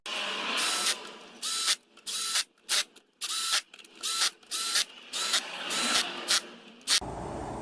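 Tension wrench tightens the solenoid bolts on an RE4R01A automatic transmission, giving a close series of short, sharp ratcheting clicks in irregular bursts with brief pauses between, ending in a duller rumble.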